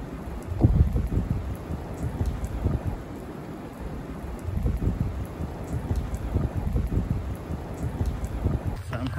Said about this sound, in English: it's starting raining again